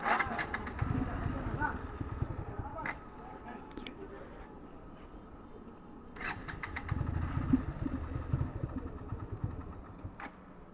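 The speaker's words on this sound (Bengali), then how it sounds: "তো বাইক ডাকাচ্ছে আর যাচ্ছে না" A Suzuki Gixxer motorcycle engine runs and revs in bursts at moderate distance, rising and falling, while people talk over it.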